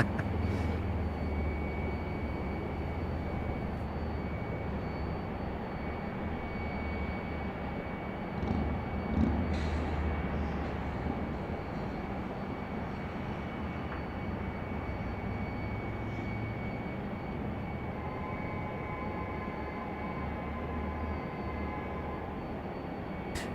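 An Icelandair airliner at Raleigh Durham airport gives a steady, distant jet engine roar that holds at an even level throughout, with no talk.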